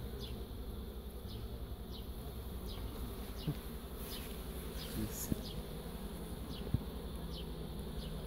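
Steady dense buzzing of many honeybees on comb up close, young bees emerging, continuous and even, with a few faint clicks and taps scattered through.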